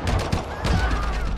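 Rapid gunfire in the World War II virtual reality shooter Medal of Honor VR, a dense fusillade of shots packed over a continuous noisy battle background, loud and close throughout.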